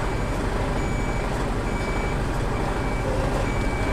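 A lorry making a blind reverse in Swansea sounds repeated reversing beeps over steady loud engine rumble, close and continuous throughout.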